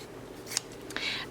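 Scissors snip through fabric scraps in a few quick, close cuts, crisp but fairly quiet.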